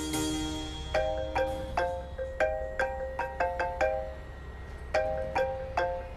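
A mobile phone ringtone sounds for an incoming call, a bright repeating melodic chime of short tonal notes in quick phrases, clear and close over a low background hum.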